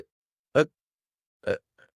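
A person hiccups three times in about two seconds, short sharp bursts with pauses between, the last one faint, with silence around them.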